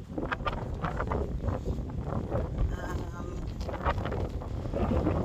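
Strong wind buffets a microphone outdoors with a steady, close rumbling roar, and faint voices are mixed underneath.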